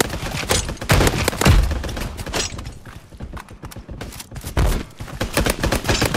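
Video game gunfire from an online multiplayer battle royale crackles in rapid, loud bursts of close shots, thinning to scattered shots and then returning near the end.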